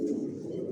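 A Maxi Dopas racing pigeon from an original Johnson line coos in a low, continuous throaty hum, close and moderately loud for under a second, with no voices.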